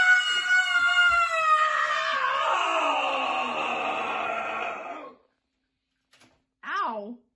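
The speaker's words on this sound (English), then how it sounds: "Scream for me!" A person lets out a long, sustained scream for a thrash metal recording. It is loud and close, holds for about five seconds and cuts off abruptly, then a short wavering cry follows after a silence.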